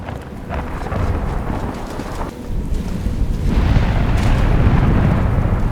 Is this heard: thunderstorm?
yes